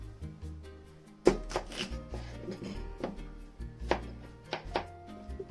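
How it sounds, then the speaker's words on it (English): A knife slices a raw carrot on a cutting board for a Japanese potato salad. The sharp chops land irregularly, each a crisp close thunk against the board, with no voices. "I'm going to also slice the carrot."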